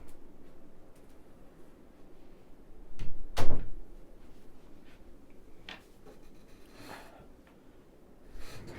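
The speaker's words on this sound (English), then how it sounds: "let me close the door because my dog won't be quiet" An indoor door swings shut with a single firm thud partway through, surrounded by quiet room ambience and faint scattered knocks.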